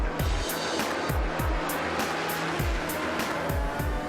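An Audi R8 race car runs at Silverstone, its engine a loud, steady roar punctuated by regular rapid gear-change or rev pulses about every half second, with no talk.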